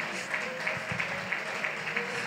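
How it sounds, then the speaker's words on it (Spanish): A church congregation claps steadily together, a dense, even patter of many hands at moderate distance that continues without pause. "Le voy a pedir que le aplauda, pero un momento largo, a Dios."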